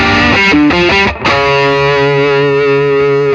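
An electric guitar on a single-coil bridge pickup with an aggressive, cutting, distorted tone: a few quick picked notes, then a loud chord left to sustain and ring.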